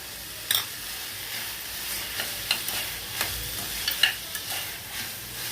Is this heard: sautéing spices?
yes